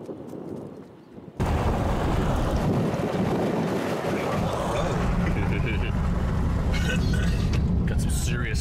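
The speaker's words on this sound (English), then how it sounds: "Got some serious outflow. There's dust blowing everywhere." Strong storm outflow wind sweeps dust across an open field. After a brief quieter start, it roars loud and continuous, heavily buffeting the microphone.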